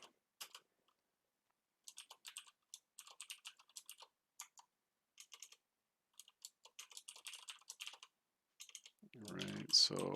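Keys clack on a computer keyboard while code is typed into an editor on a Raspberry Pi 4, in quiet bursts of quick taps with pauses, followed by a brief louder rustle at the end.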